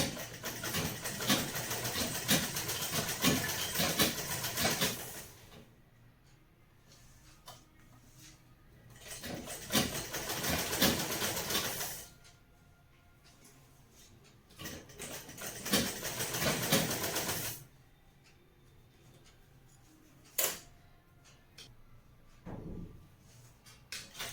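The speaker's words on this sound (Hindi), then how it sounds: "इस तरीके से हमें इसकी सिलाई कर देनी है।" A sewing machine stitches a suit in several loud, close whirring bursts of a few seconds each, broken by quiet gaps with small handling noises and no talk.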